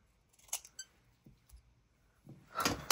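Scissors snipping through sticker paper in a craft session: a few faint, quiet cuts and rustles close by, ending in a louder crinkling swish of paper.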